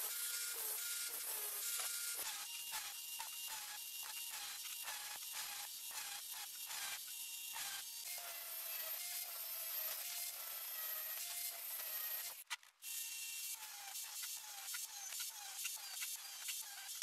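A hand saw cuts a crown shape into a 12-point metal socket head, with a harsh, rhythmic rasp of back-and-forth strokes, close and steady, briefly pausing once before resuming; no talking.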